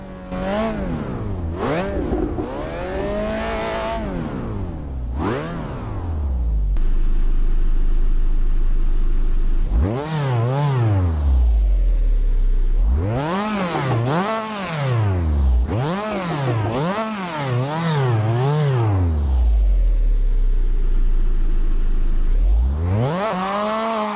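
A Japanese racing car engine in Assetto Corsa revs hard through repeated up-shifts, pitch climbing and dropping in rapid sweeps, with a deep idling rumble between loud accelerations.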